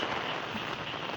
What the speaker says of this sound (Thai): นี่ครับผมว่าน่าจะเป็นพายุลูกเห็บนะ